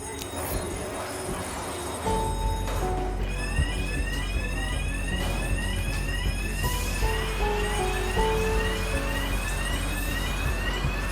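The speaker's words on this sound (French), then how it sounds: "L'alarme a retenti" A fire station alarm rings loudly and continuously, a repeating electronic warble over a low steady hum, with a rising tonal pattern and some background commotion.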